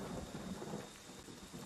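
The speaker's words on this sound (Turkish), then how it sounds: "Şimşek çakıyor" Thunder rumbles over steady heavy rain during a lightning storm in the Friday the 13th video game, a dense continuous wash of rainfall with low thunder filling the short moment.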